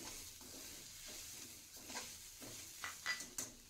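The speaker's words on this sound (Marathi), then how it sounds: "आता मी याच्यात 1 वाटी खिसलेलं खोबरं टाकते। ते व्यवस्थित मिक्स करून घेते।" Grated coconut is stirred in hot ghee with a faint, quiet sizzle, while a spoon scrapes and taps the pan in a loose, repeated rhythm.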